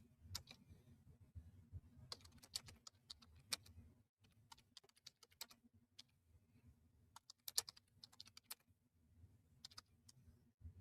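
Keystrokes on a computer keyboard come in quick irregular bursts with short pauses, fairly quiet over a low steady hum in a small room.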